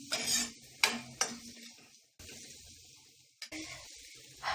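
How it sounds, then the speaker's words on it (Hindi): A spoon scrapes and stirs turmeric and other ground spices in a hot pan with a soft sizzle, a few distinct strokes close by and no voices. "अब इन सभी को मिक्स करके कुछ सेकंड तक कुक कर लेना है"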